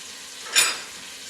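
Butter cooking in a big saucepan gives a faint, steady sizzle, broken by a single brief stirring scrape or clink near the middle, heard close up without voices.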